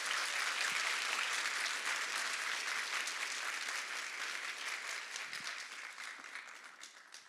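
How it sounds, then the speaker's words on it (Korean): A church congregation gives loud, sustained applause to welcome a pastor at a service after a retreat, a dense clapping that holds steady for several seconds and thins slightly toward the end. "여러분들 큰 박수와 환영으로 우리 맞이해 주시기를 바랍니다"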